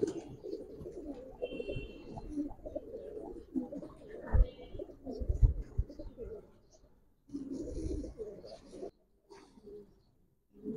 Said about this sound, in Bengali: প্রথম যে পেয়ারটা দেখেন সিলভার প্যাটার্নের একটা কবুতর